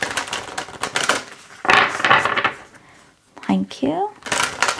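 Tarot cards shuffled by hand: bursts of dense papery riffling close to the microphone, broken by a brief pause and a stretch where a voice speaks.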